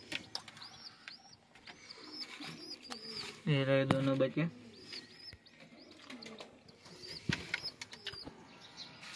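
Pet pigeons cooing softly while wings flap in a brief loud burst, close by, with a person talking over them.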